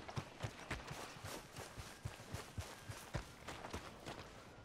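A horse's hooves clip-clop in a steady walking rhythm in the video game Red Dead Redemption 2, fairly quiet and alone with no talk over them.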